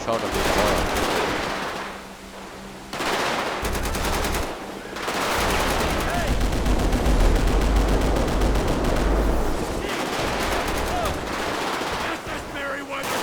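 Sustained automatic gunfire in Grand Theft Auto V, long rapid bursts of loud rattling shots broken by short pauses, dense and close with no talking over it.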